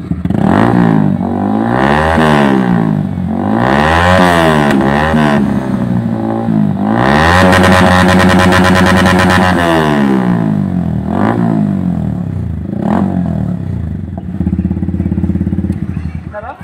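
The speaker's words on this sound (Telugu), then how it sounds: "వాళ్ళ బండి ఇప్పుడు స్టార్ట్ చేస్తాం, ఒకసారి చూడు అది ఎంత సౌండ్ వస్తుంది," A motorcycle fitted with a modified aftermarket silencer starts and revs loudly in repeated rising and falling bursts, then holds a long high rev before dropping back to a rough idle, close and dominant throughout.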